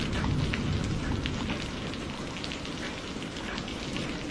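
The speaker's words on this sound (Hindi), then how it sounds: "कितनी देर से बारिश आ रही है, रुकने का नाम ही नहीं ले रही" Heavy rain pouring down in an animated village flood story, a dense constant hiss of drops on surfaces, loud and steady throughout with no speech.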